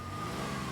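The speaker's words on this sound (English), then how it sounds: "almost drowning out the banshee wail of the sirens" A continuous wailing siren in the video game Max Payne, steady and fairly loud, with an engine rumble underneath.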